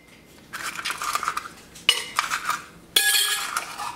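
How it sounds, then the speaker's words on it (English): Three or four ice cubes dropped into a glass for iced matcha, bright clinks and rattling in three separate bursts, each cube clattering against the glass up close with no talking. "So I'll put about 3 or 4 ice cubes in."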